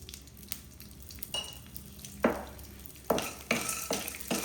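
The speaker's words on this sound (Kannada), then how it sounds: "ಅಂಟು ಫ್ರೈ ಮಾಡುವಾಗ ಸ್ವಲ್ಪ ತುಪ್ಪ ಹಾಕ್ಕೊಳ್ಳಿ." Edible gum frying in ghee in a pan while being stirred, with bursts of crackling sizzle and scraping strokes that grow louder and more frequent toward the end, no voices.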